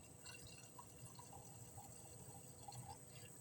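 A drink being poured into a glass, with a steady liquid trickle and small drips running throughout, fairly quiet and close, with no talking.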